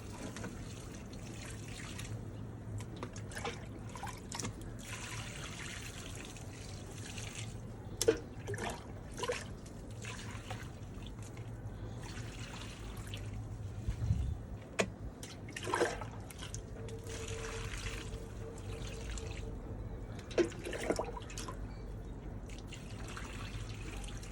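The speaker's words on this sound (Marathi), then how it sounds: "आता ह्याच्यात मी पाणी टाकते" Water is poured into a plant pot filled with soil in a garden where okra seeds are sown, giving a faint, uneven trickle and dripping that runs on and off for a long stretch, with a few soft knocks.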